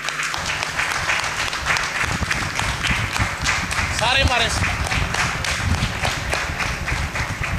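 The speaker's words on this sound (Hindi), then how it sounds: "खुल के ताली बजाए" An audience at a lecture claps loudly and continuously in a dense, sustained wash of applause, while a voice speaks over it.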